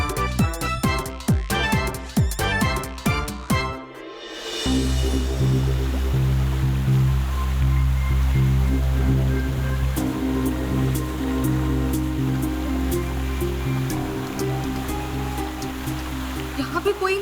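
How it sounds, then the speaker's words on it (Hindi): A roaring waterfall fills the scene in a dense, steady rush of water that rises abruptly after a few seconds of other sound and then continues loud and unbroken, with faint voices beneath it. "इस झरने की वजह से आवाज नहीं आ रही है।"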